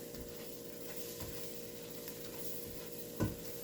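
Garlic frying in a pan with potato soup ingredients, a soft steady sizzle with faint scraping stirs and one brief louder knock near the end, quiet and close.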